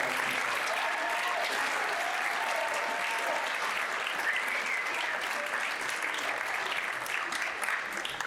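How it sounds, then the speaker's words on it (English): A concert crowd claps for a high school symphonic band at its final concert, a broad, even wash of applause that holds steadily throughout. "Let's give another big round of applause to the symphonic band."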